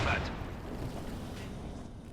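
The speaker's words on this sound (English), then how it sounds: "We've got a walking Stuka barrage going in." A walking Stuka rocket barrage in Company of Heroes 2 lands as a muffled, rumbling blast at the start, then trails off into a low, sustained roll of distant impacts.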